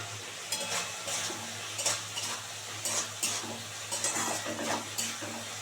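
Fish curry with coriander leaves being stirred in a pan, a utensil scraping and clinking in steady strokes over a soft continuous sizzle, close and without talk.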